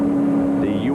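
Stock cars circle Daytona International Speedway on pace laps before the 1996 ARCA 200, a steady, loud engine drone with a sustained tonal hum, heard from close by over about a second.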